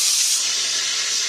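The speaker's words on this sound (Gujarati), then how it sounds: "કુકર की सीटी." A pressure cooker whistles with a loud, steady hissing steam release, held for about a second without voices, during idli preparation in a home kitchen.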